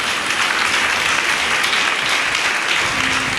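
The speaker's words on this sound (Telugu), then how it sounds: "మీరు మళ్ళీ కొట్టాలి చప్పట్లో." A church congregation at a Bible sermon breaks into loud, dense applause that runs continuously from start to finish, with no break.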